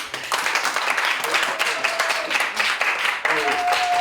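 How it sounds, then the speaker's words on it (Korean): Church audience at a New Year revival service clapping to welcome a choir coming up for a special song, a lively patter of many hands close by, with a few voices and brief tones mixed in. "자, 나오실 때 박수로"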